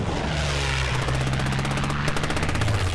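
British warplanes attack a German convoy in a film scene: droning propeller engines roar overhead while rapid bursts of machine-gun fire rattle through the middle, loud and close, with no speech.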